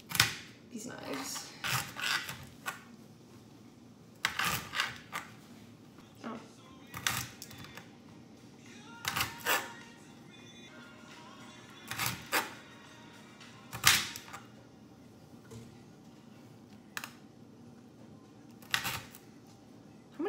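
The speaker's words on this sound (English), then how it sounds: "I'm just gonna cut the ends off of them." A kitchen knife trimming the ends off Brussels sprouts on a cutting board, producing a series of sharp, close chopping strokes spaced a second or two apart over low background noise, with occasional talk.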